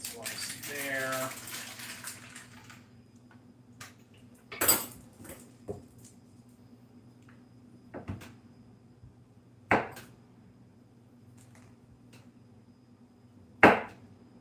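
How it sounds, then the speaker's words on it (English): A knife cuts cheddar cheese on a board in a handful of sparse, sharp knocks and taps spread across the clip, over a low background hum, with brief speech at the start. "Cut some cheese up here."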